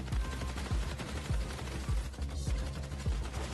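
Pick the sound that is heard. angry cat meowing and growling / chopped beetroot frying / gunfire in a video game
gunfire in a video game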